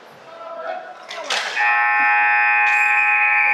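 At a U15A youth hockey game between the New Waterford Sharks and Glace Bay Miners, the arena buzzer sounds at a penalty's expiry, a loud steady tone that holds to the end after some brief rink noise.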